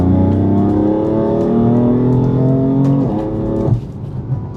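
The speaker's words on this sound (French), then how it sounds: "les nouveaux 6 cylindres BM, tu vois, c'est un bruit que j'apprécie pas tellement en fait" BMW M4 Competition with its six-cylinder engine revving loud and close, the pitch climbing steadily for about three seconds before the revs drop sharply and settle.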